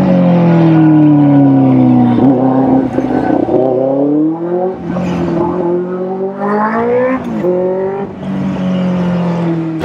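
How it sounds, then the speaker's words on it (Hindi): A Benelli 600i motorcycle with a changed, louder exhaust revs hard up close, its engine note rising and falling through several throttle blips and sweeps, strong and continuous with no talk. "अभी स्मूथिंग हो गई आवाज, पहले बहुत ज्यादा है ना फट रही थी आवाज, अभी थोड़ी ठीक है एग्जॉस्ट चेंज होने के बाद।"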